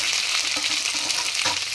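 Cut vegetables for shukto frying in hot oil with tempering, a continuous loud sizzle with faint stirring scrapes, no voices.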